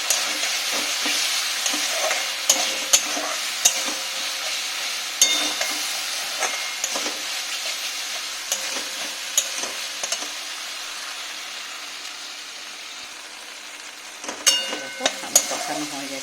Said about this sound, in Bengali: দেখো প্রায় আমার হয়ে এসছে, ভালো করে কষানো প্রায় হয়ে এসছে।